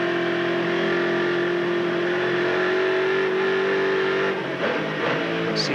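A Holden touring car engine at Phillip Island howls under power, a loud sustained note climbing steadily in pitch as the throttle opens, then a brief gear-change dip near the end.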